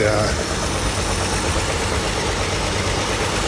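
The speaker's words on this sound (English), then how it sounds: "Still hear that little bit of knocking, and some of it is the clutch, the throwout bearing." Car engine running with a faint knocking from a worn clutch throwout bearing, a steady dense engine noise heard up close with no break.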